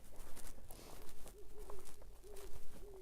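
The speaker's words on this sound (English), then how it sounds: "Can you hear the owl?" Owls hoot outside a house at night, a series of soft, low, repeated hoots spaced a second or so apart, faint and distant under steady background noise.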